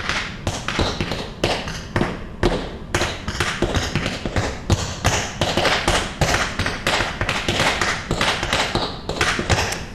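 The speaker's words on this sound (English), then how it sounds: "I got my tap shoes on" Tap shoes strike a floor in quick, crisp rhythmic patterns, dense clusters of sharp taps and heel thuds continuing for the whole stretch, close and loud with no talking.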